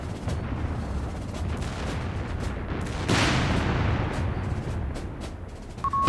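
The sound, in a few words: anti-tank gun firing in video game Company of Heroes 3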